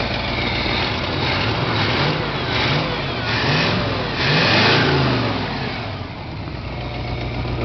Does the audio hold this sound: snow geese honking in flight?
no